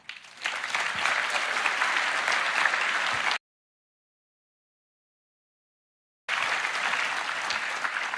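A crowd applauds loudly and steadily, then the sound cuts to silence for a few seconds before the applause returns just as strong.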